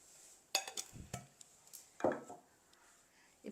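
A spoon scrapes and clinks against a bowl while ragi flour is stirred with palm jaggery, a few sharp knocks and rubs spaced apart, close and fairly quiet.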